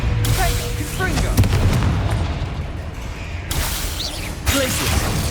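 Confringo fire spell explosions in the Hogwarts Legacy video game: repeated loud booming blasts and whooshes in dense combat, with sharper impacts scattered throughout.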